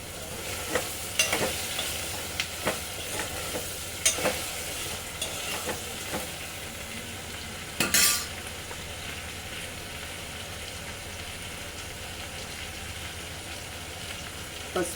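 Okra frying in a pan, a steady close sizzle with occasional scraping clinks of a spoon stirring, and a louder scrape partway through.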